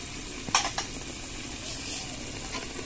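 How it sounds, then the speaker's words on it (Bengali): Spice paste of turmeric, chilli powder and salt being stir-fried in a pan: a low sizzle under a couple of sharp utensil scrapes and clinks early on, then a quieter steady frying. "মশলাটা 5 মিনিট কষিয়ে নিব।"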